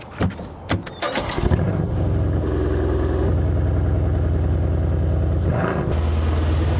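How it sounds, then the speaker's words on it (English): A car engine cranks and starts on a cold day, with a few clicks and a brief squeal before it catches, then settles into a steady, loud idle hum with a short change in tone near the end. "we're going to start up the car so you guys get a start up"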